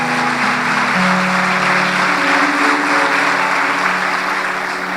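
A large crowd at a church worship service claps and cheers in a steady, dense wash of applause, with a sustained musical tone humming underneath.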